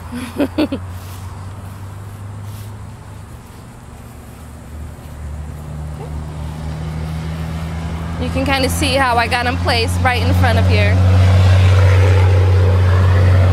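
Trucks pass along a busy beach boulevard, a low engine rumble and drone that swells louder toward the end, heard under someone talking.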